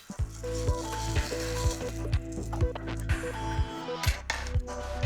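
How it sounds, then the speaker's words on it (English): Egg fries in a pan with pan juices, a steady close sizzle overlaid by a repeating low thumping rhythm and occasional utensil scrapes. "And then last but not least, the perfect fried egg."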